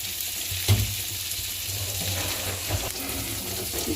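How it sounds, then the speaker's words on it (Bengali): Eggplant slices fry in oil left over from frying hilsa fish, a continuous crackling sizzle with a single louder knock near the start and a few soft stirring sounds. "ইলিশ মাছের তেলে, ইলিশ ভাজার তেলে এই তো বেগুনগুলো ভেজে নিচ্ছি"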